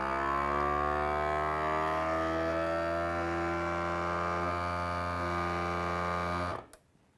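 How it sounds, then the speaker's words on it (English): A vacuum sealer vacuums and seals a bag of ground wild game meat: a steady motorized drone with a constant pitch hums continuously for several seconds, then cuts off abruptly near the end. "we're going to hit the vac seal button, which is gonna vacuum this and then seal that bag."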